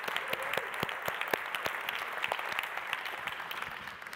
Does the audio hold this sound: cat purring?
no